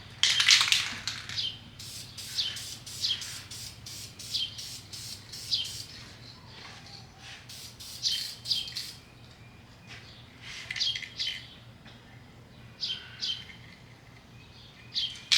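A paint spray gun triggered in short on-off bursts, each a close, hissing spray lasting a second or less, repeated in irregular clusters with quiet gaps between, no talking.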